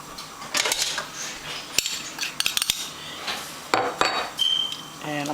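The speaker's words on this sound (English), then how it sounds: "I crush it into little pieces" Chicken bouillon cube broken apart by hand for pollo guisado (chicken stew), giving a run of sharp crinkly snaps and crumbling clicks in bursts against a quiet kitchen.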